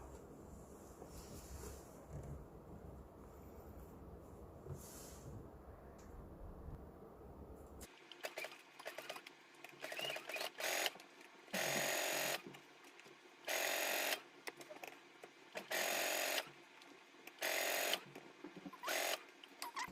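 Sewing machine stitching a dress seam: after a quiet stretch of faint handling, the motor runs in several loud, steady bursts of a few seconds each, separated by short pauses.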